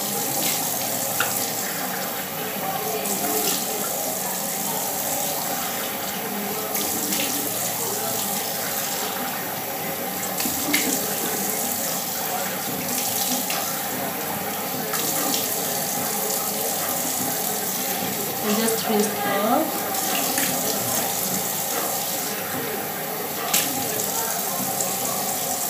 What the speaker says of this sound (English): So I'm rinsing off my face now.